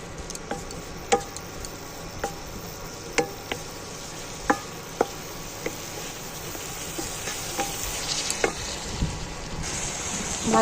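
Ground spices, including turmeric, garam masala, cumin powder and Kashmiri chili powder, sizzle steadily in a pan while a utensil stirs them with sharp scraping clicks at irregular intervals, close and fairly quiet, with no talking.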